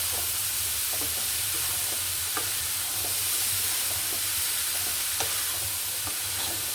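Boiled chickpeas tipped into a hot frying pan sizzle steadily with a broad hiss, broken by occasional clicks and scrapes of stirring, close and continuous with no talk.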